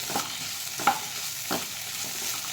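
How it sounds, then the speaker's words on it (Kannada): Kabuli chickpea usli with coconut being stirred in a pan, a soft continuous sizzle punctuated by three or four distinct spoon scrapes at an unhurried rhythm. "ಚೆನ್ನಾಗಿ ತಿರುಗಿಸಿ"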